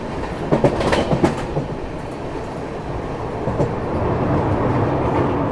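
Mumbai Indore Duronto Express racing along at around 130 km/h near the Chambal River, a steady loud rumble of wheels and carriage noise with a few sharp clicks of rail joints early on.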